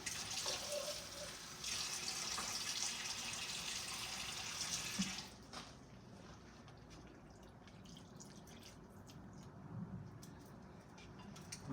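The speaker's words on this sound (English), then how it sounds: "we're going to pour the rest of the water" Water pours steadily for about five seconds, then stops, leaving a quiet room with faint drips and distant birds.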